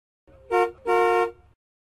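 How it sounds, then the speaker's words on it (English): Two short taxi horn honks, a brief toot followed by a longer blast, close and clear. "Taxi."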